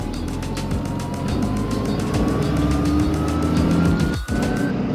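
A second-generation Dodge truck drives steadily with a loud, continuous engine drone and a slowly rising whine, heard from inside the cab.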